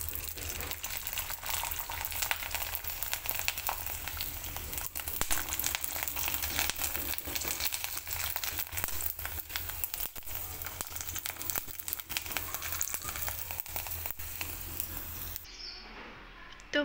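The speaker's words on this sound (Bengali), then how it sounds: "তো একইভাবে পাঁপড় ভেজে নেব।" Sago papad frying in hot oil: a dense, continuous crackling sizzle, loud and close, running steadily before cutting off near the end.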